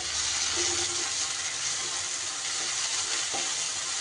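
Onion and tomato sizzle and fry steadily in a pan, a constant crackling hiss with occasional stirring scrapes and no talking.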